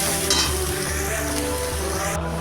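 Ground onion paste sizzles steadily as it fries in a pan for a fish curry, a constant loud crackling hiss with no one talking.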